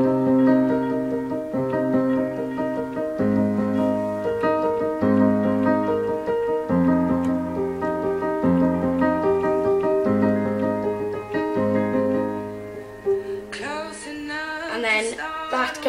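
A piano plays a song as sustained, repeating chords in a steady rhythm, moderately loud and close, with a voice briefly joining near the end.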